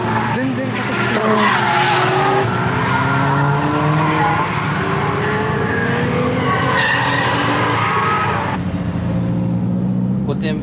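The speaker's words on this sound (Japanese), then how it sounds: "バラバラバラバラバラバラ言ってもう加速もしないし、これで全開だよ。" A D1 Grand Prix drift car's engine sputtering and stuttering at full throttle without gaining speed, loud and close, with squealing tyre skids and voices talking over it.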